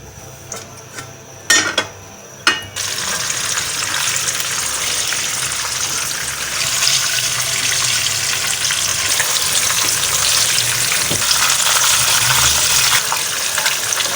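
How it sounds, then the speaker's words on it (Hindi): Koftas for a kofta curry fry in hot oil, making a loud, steady, close bubbling sizzle that swells and runs on after a few brief knocks at the start. "अब मैं इसके अंदर कोफ्ते तलूँगी"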